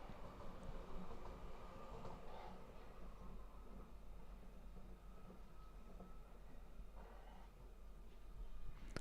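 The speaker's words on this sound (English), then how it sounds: "I was trying to see if you can hear the train." A train passes outside an apartment window in Munich, heard as a faint, steady rumbling roar that swells slightly toward the end, with no talk over it.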